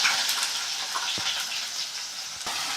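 Onions dropped into hot oil already holding fenugreek and ginger for a Tamil fish curry, crackling and sizzling steadily and close, with a couple of sharp pops from the pan.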